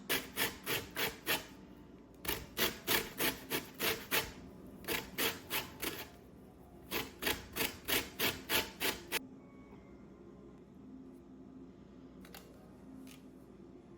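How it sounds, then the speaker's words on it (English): An orange zested on the fine side of a box grater, heard as bursts of quick rhythmic rasping strokes, four to eight scrapes per burst with short pauses between, close and crisp, no talk. "Now I'm going to use my box grater here, and I've just got this fine side."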